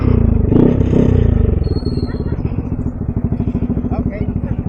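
A touring motorcycle's engine runs close by with a steady, throbbing pulse as it is moved, while voices talk over the start before the engine settles into an even, rhythmic beat.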